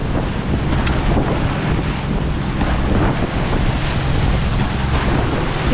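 Strong sea waves crash and churn around a small boat on open water, while heavy wind buffets the microphone in a steady, loud roar that never lets up.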